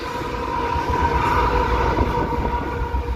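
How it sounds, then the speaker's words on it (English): Long freight train barreling through Toronto, a loud, continuous rumble and rolling clatter of wagons passing close by, with a steady tonal whine riding over the noise throughout. "seeing a freight train just barreling through Toronto like this"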